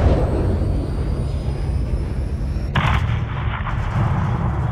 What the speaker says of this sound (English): Graves, once ground is clear, have your man drop a missile on that hangar.